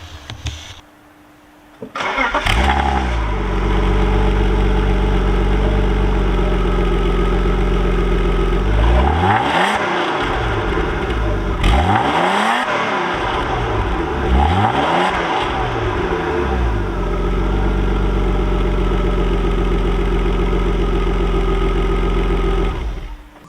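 A BMW E36 325i engine cranks and fires, then settles into a steady idle, with a few brief revs swelling and dropping before returning to a constant rumble.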